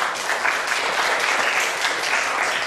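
Audience at an indigenous pop music lecture event claps steadily for the museum director, a dense, even applause held at constant loudness through the whole span.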